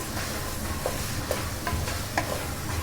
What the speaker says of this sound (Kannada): ಪುದೀನ ಸ್ವಲ್ಪ ಅಷ್ಟು ಹಾಕಿ ಚೆನ್ನಾಗಿ ಮಿಕ್ಸ್ ಮಾಡ್ಕೋತೇನೆ